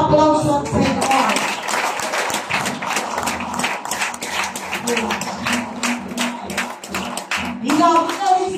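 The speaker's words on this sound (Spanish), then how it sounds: "Dale un aplauso al Señor." A church congregation claps during a Spanish-language Christian sermon, producing a dense, steady patter of hand claps across the whole stretch. Voices can be heard at the start and end.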